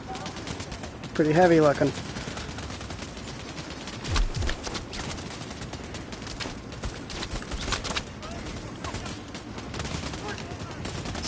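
A heavy gun fires repeatedly in the PSVR shooter Bravo Team, loud sharp bursts and crackling volleys running through the scene while someone talks over the gunfire.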